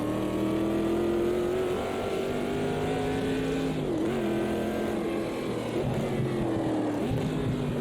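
Classic Corvette C3 with a 4-speed gearbox racing at Bathurst in the game AMS2, a loud continuous engine drone rising and dipping with revs and gear changes, close and unbroken.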